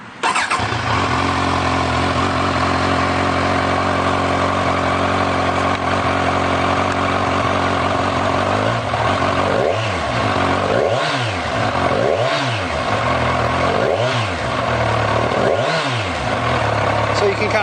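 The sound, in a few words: Kawasaki Z1000 motorcycle engine starting and idling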